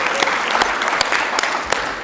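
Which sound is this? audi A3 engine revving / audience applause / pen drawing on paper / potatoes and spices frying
audience applause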